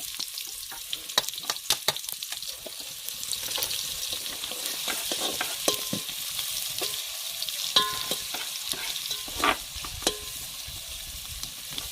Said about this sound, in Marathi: आता आपण सूपसाठी याच्यामध्ये कांदा जरासा परतून घेऊ.